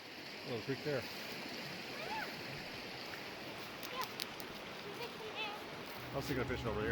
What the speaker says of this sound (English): Little creek there.